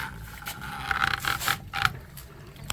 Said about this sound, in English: We're going to turn it to the backwash mode.